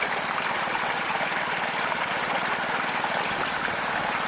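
Water runs steadily through a homemade high banker on a Washington beach, washing sand down into a matting with a flap that slows the flow, a continuous close rushing trickle with no talk.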